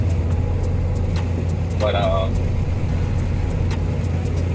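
A box truck rolls along the road with a constant low engine and road rumble and a brief tonal chirp, while someone talks from inside the cab.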